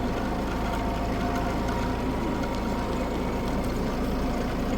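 A tractor engine runs steadily with a loud, low rumbling drone while hauling firewood in its loader bucket, constant and close without pauses.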